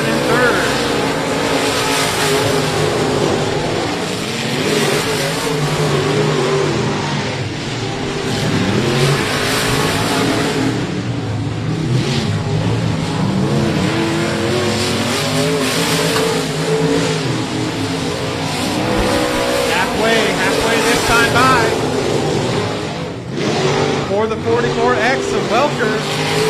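Race cars roar around I-37 Speedway during a regular race program, engines revving and surging loud and close as the pack passes, with an announcer commentating over them throughout.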